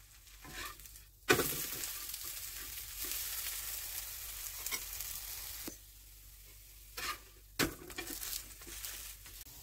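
Thalipeeth, a mixed-flour flatbread, roasting in a pan with steady soft sizzling, interrupted by a few sharp bursts and clatters as it is turned or handled, close and alone with no talk.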